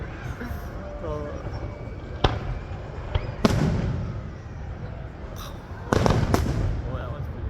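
Canada Day fireworks bursting outdoors in several sharp, loud booms spaced a few seconds apart, with a heavier cluster of blasts near the end, over a steady background of crowd noise and people talking.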